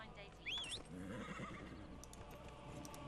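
Horse whinny in the Dragon Age Inquisition video game, a short high neigh near the start followed by soft clip-clopping hooves, with someone talking over the game sounds.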